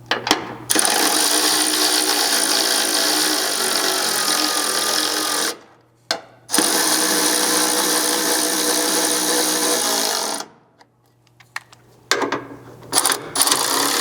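A power tool whirs as it drives bolts into a rock slider bracket on a fourth-generation Toyota Tacoma, running in long loud steady bursts separated by brief pauses and short clicks.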